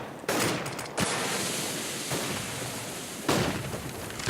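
AK-47 rifle fire in Counter-Strike during a competitive match: several sharp, loud bursts of shots at irregular intervals over a constant noisy background, without any talk.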